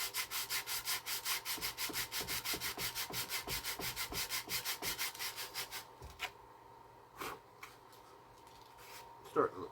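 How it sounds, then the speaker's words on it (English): Rhythmic back-and-forth sanding strokes rasp against the glued wood of a lifeboat model in a quick, even series, then stop, leaving a few scattered scrapes and knocks. "There'll be lots of sanding."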